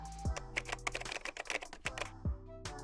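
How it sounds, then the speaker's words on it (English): Keychron K6 mechanical keyboard typed on in a quick burst of close, crisp key clicks, with a few deeper thocks from larger keys, and no talking. "I'm just gonna do a quick sound test now of the keyboard so you can hear what it sounds like when you're typing on it."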